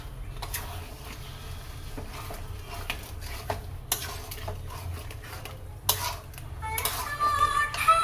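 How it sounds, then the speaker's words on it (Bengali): Chicken and spices being stirred in a pan, with steady scraping and clinking of a utensil against the metal under a low background hum, growing busier and louder toward the end. "চলুন ভালো করে মেশাই।"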